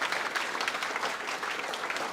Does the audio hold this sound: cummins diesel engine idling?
no